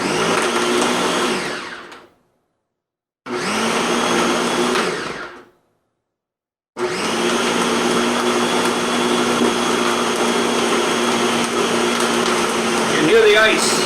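A blender crushing ice for a milk smoothie, loud close whirring in three bursts separated by short silent pauses, the last burst longest, with a voice talking over it.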